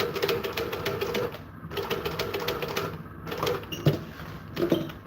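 A sewing machine stitches through many layers of vinyl in rapid, loud mechanical chattering runs, broken by short pauses and restarts, with no talk over it.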